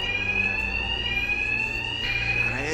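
Alarms ringing in the video game Batman: Arkham Knight, a continuous loud electronic tone with steady high pitch that shifts slightly partway through, over a low background rumble.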